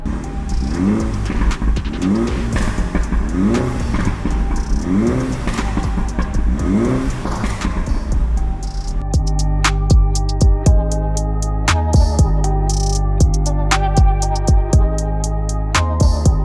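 A Mini F56 Cooper S fitted with a Remus exhaust revs repeatedly, rising and falling engine pulls at first, then settling into a loud, close, steady idle with sharp crackles and pops.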